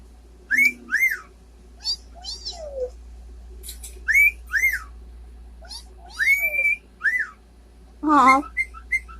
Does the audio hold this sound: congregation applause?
no